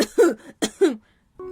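A woman coughs in several harsh bursts, two quick pairs of close, loud hacks separated by brief pauses, followed by a short voiced sound at the end.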